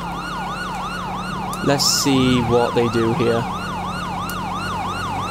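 Police siren in GTA V, a continuous wailing tone sweeping up and down throughout, loud and near, with game noise and crashing sounds in the middle and a voice speaking briefly over it.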